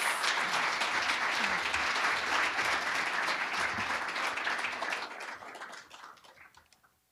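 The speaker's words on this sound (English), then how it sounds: "Let's have a round of applause for our panelists" Dense applause from a large audience, steady and loud for several seconds before gradually thinning out and fading.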